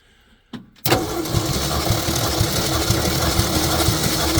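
Starter cranking the engine of a 1966 Ford F100 during a compression test: a brief click, then a loud, steady rhythmic churning drone from close by that runs without pause to the end, with no voices.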